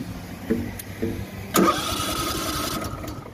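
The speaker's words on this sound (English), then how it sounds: "Let's see if we can start this bad boy up." A Kohler Command mower engine is started at an auction house, with a couple of short cranking attempts before it catches and settles into a steady, close idle.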